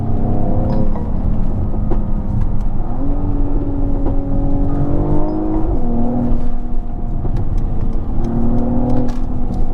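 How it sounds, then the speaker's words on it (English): A Mercedes AMG car's engine revs loudly and steadily up close, its pitch rising and settling in waves, with scattered sharp exhaust pops and crackles riding over the drone. "You can hear the pops and cracks."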